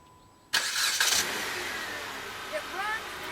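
A car engine starts abruptly and settles into a steady running hum, with a brief rev near the end.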